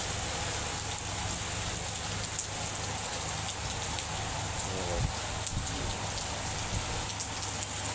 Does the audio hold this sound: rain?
yes